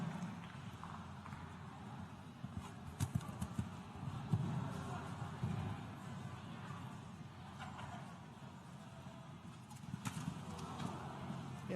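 Hooves of a Polish show jumper thud and clop over arena footing during a World Cup jumping round at Del Mar Fairgrounds, a soft uneven rhythm under a low, steady crowd murmur.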